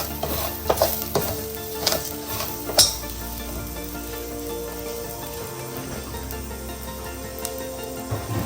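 Rice being stirred and fried in ghee over high flame, with a steady sizzle and several sharp scraping strokes early on before the frying settles into an even hiss.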